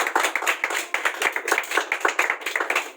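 A crowd claps for a maths quiz winner at a student prize ceremony, a brisk, steady run of many hands clapping close and fairly loud, with no one speaking.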